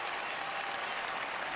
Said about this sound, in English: can we get a big round of applause for the Inner City Youth Orchestra of Los Angeles here?